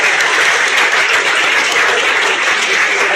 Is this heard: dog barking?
no